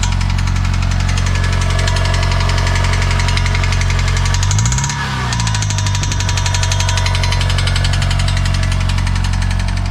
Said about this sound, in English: so yeah, that's how the car sounds currently. It sounds really bad.